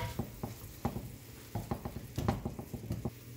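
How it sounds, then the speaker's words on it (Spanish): Onion, garlic and diced tomatoes frying in a pan, a quiet sizzle broken by irregular crackles and pops scattered across a few seconds. "Dejamos que se fría un poco."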